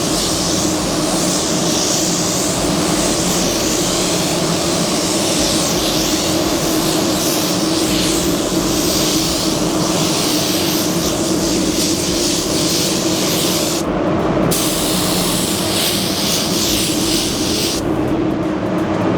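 A spray gun at 18 PSI lays down a slow drop coat of Sherwin Ultra 9K automotive paint, a loud, steady, close hiss that runs without a break, with no voices.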